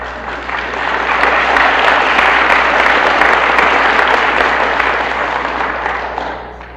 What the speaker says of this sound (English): Don't keep applauding, because I'll go on forever.